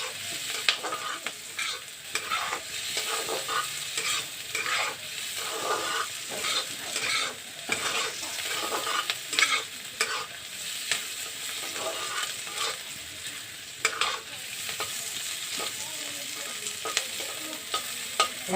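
Capsicum and onions frying for restaurant-style chilli chicken, a close, steady sizzle broken by repeated scraping stirs of a spatula against the pan, with no one speaking.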